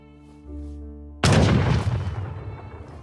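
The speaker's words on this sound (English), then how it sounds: "Load the cannons!" A cannon fires in an Age of Empires battle at a harbor: after a low steady hum and some musical tones, one loud, sudden boom erupts and rumbles away over the next two seconds.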